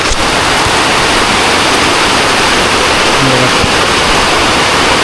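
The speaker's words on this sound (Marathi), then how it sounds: "जोरदार पाऊस पडतो." Heavy rain at Marleshwar roars loudly and continuously, a close, dense wash of noise like pouring water, with a brief faint voice buried beneath it.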